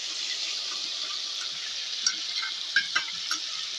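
Garlic fries in a pan with a steady hiss, with a few faint clinks and stirring scrapes breaking through near the end.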